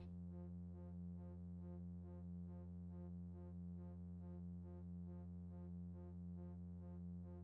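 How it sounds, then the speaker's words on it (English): A sustained synth pad drones evenly with a low, rich tone and a slow pulsing shimmer, soft and washed in reverb. "let's add a little reverb"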